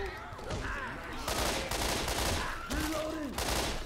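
Left 4 Dead 2 gunfire on the Dead Center campaign, fired at a charging Tank: rapid repeated shots in dense bursts alongside game creature noises and effects, fairly loud throughout.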